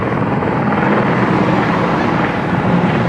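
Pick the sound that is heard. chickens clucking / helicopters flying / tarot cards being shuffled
helicopters flying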